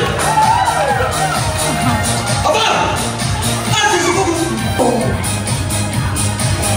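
Crowd applause and cheering at a provincial wedding: a dense, steady wash of clapping and shouts runs the whole time, mixed with background music and an occasional voice calling out.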